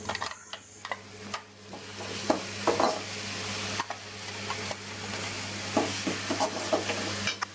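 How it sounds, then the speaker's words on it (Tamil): Ground coriander paste stirred into hot oil in a pan for coriander rice, giving a steady crackling sizzle broken by scraping stir strokes, fairly close with no voices. "இப்போது மிக்சியில் அரைச்சி வச்சுருக்கிற கொத்தமல்லி அந்த பேஸ்ட் அதில் போட்டுக்கலாம்."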